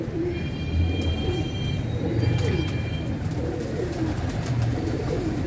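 Pigeons coo softly and repeatedly nearby, their low throaty calls overlapping against a steady background hum.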